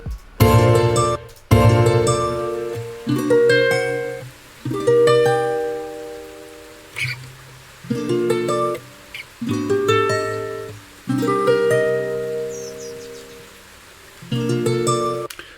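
Ukulele music for a meadow scene plays in short melodic phrases separated by brief gaps, upfront and alone with no voices, meant to sit beside creek water.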